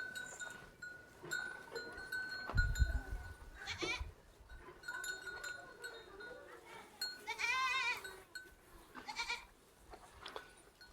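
Buffaloes and other livestock on a village farm in Sindh, Pakistan, eating fodder, with animal bleats and calls, a dull thump and scattered rustling and movement close by over a quiet outdoor background.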